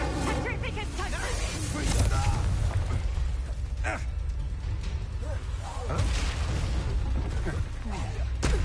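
A fire spell cast in the Hogwarts Legacy video game gives a sustained, roaring burst of flame with dense rumbling noise that lasts through the whole stretch, loud and continuous, and a voice speaks over it.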